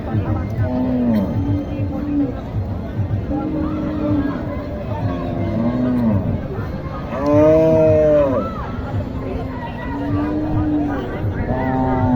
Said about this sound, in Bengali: এইখানে দেখেন একটি গরু